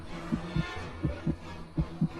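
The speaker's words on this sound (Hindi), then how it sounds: "मनन का दिल जोरों से धड़कने लगा" A loud, pounding heartbeat effect from a Hindi horror story sounds as repeated low double thumps in a steady rhythm, close and alone with no voices.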